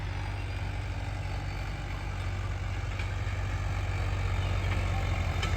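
A tractor engine running in a field, a steady deep idling drone that holds constant and close, slightly louder toward the end, with no voices.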